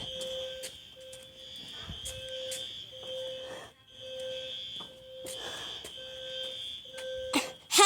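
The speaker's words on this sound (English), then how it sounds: "Because the fire alarm's going off." An apartment building fire alarm sounds in repeated pulsing beeps, a steady high tone with regular gaps, fairly near, over faint background noise.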